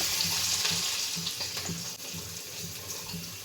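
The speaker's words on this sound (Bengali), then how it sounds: "এই পর্যায়ে আমি এখানে অ্যাড করব হচ্ছে আমার বাটা মশলা আর শুকনো মশলা" Ground paste and dry spices hitting hot oil with fried onions while cooking dal with jute leaves, a dense hissing sizzle close by with a few soft stirring knocks underneath.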